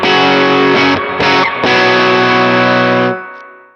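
Electric guitar played through a Skylark Special amp with a crunchy, distorted breakup, sustained chords ringing loud and close for about three seconds with brief gaps before fading out.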